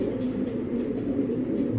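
Male Tiger Grizzle Belgian racing pigeon cooing close by in a low, continuous rolling murmur, a steady throaty drone without clear breaks between calls.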